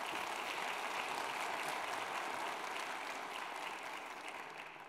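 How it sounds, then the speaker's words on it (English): Sustained audience applause at the opening ceremony of a 2022 annual meeting, held in a large building, a dense steady wash of many hands clapping that fades slightly toward the end, with no talk. "This we haven't forgotten after 2 years of a break, to have applause at the right spot."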